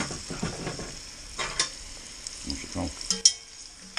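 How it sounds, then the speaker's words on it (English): A spoon stirs sliced red pepper, celery, carrots and mushrooms in a soup pot, giving a few soft scraping strokes over a low, steady sizzle, close and fairly quiet. "And then we're going to stir that up."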